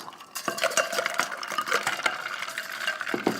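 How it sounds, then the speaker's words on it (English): A whisk stirs dissolved gelatin in a bowl, a steady run of quick metallic clinks and scrapes against the bowl's sides, close and continuous with no talking. "we want to whisk this until you see a little bit of gelling"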